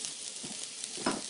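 Onions and zest sizzle in a hot pan seasoned with smoky curry salt, a steady soft hiss running throughout with a brief louder flare of frying near the end; no one speaks.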